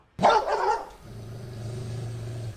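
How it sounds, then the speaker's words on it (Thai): A pit bull left at a temple barks once, a loud close gruff bark right at the start, followed by a lower rumbling drone in the background for the rest of the moment. "น้องยิ้มสวยหรือน้องยิ้มแฉ่งเนี่ยคือฉายาของสุนัขพันธุ์พิทบูลนะครับ"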